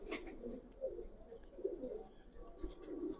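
Giribaz pigeons, a cock and hen, give low, repeated coos in soft rolling bursts, fairly close and at moderate volume, with faint background noise and no speech.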